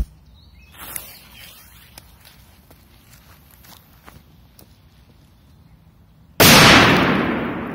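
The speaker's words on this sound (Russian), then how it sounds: "Дальше взрываем Thunder King." A Thunder King firecracker explodes with a single loud, close blast that decays into a long rumbling tail, after a few seconds of quiet outdoor ambience with faint scuffs.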